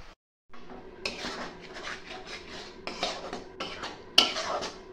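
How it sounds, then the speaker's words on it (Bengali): Cashew and melon-seed paste stirred into gravy in a pan, a spoon scraping and clinking against the metal in uneven strokes with sharp knocks, fairly quiet and close, after a brief silent gap at the start. "এবার দিয়ে দেওয়ার পর আমরা নাড়াচাড়া করে নেবো।"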